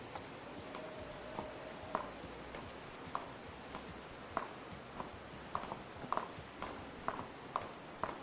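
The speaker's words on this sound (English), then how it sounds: "So let's quickly go to the horse." Horse hooves clip-clop at a steady walking pace in a survival video game, a regular series of light, crisp knocks over a soft ambient background, with no talking.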